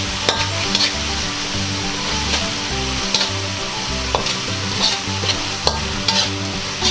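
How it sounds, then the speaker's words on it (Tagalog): Sautéed onion and ginger are stir-fried with beef for a mushroom dish, making a loud, close sizzle with regular stirring scrapes and clinks against the pan, with no talking. "ibabalik na po natin tong ating sibuyas at saka yung luya kanina na ginisa po natin"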